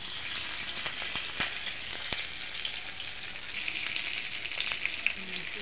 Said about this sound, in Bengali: এখন আস্তে আস্তে বড়া ভাজাটা দিয়ে দেবো কড়াইতে।